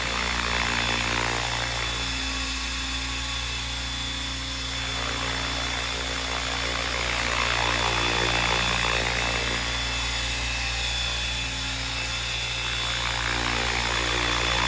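A 12S electric RC helicopter hovers nearby with a loud, sustained high-pitched motor whine and a buzzing rotor drone that swells and eases slightly, with no talking.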